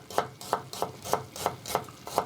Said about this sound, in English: I'm gonna add some ginger. We're gonna just slice it up roughly.